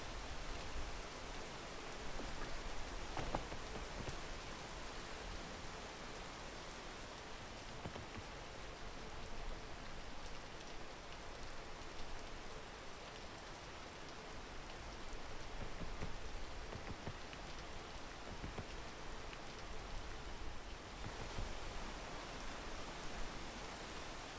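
Steady rain in a video game, an even hiss of falling drops that holds constant throughout with no other prominent sounds.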